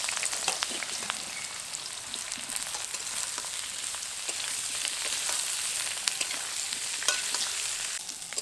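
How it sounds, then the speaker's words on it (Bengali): Raw jackfruit pieces frying in oil, a loud, steady sizzle close at hand with crisp pops and the occasional scrape of stirring. "এই তেলের মধ্যে এঁচোড়গুলো দিয়ে ভেজে নেব।"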